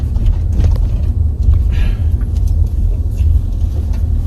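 A handicapped-accessible van rolls along a dipping, patched-up street with a loud, constant low road rumble and engine hum heard from inside the vehicle, along with a few faint thumps and rattles.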